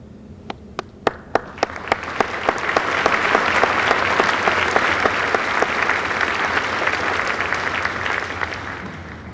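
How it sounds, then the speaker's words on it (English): Audience at a high school senior assembly breaks into applause, beginning with a few scattered claps that quickly swell into sustained, dense clapping from a large crowd. "please hold your applause until the end"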